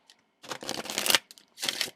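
A deck of cards being shuffled in two quick riffling bursts with a short pause between, close and fairly loud.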